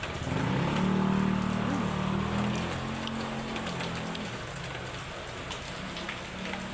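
Steady heavy typhoon rain pounding a surface, a dense continuous hiss with a low engine-like hum underneath, loud and unbroken throughout.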